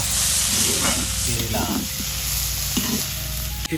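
Fiddlehead fern (dhekia) frying in an iron wok, a steady close sizzle and hiss with occasional stirring scrapes, continuous throughout.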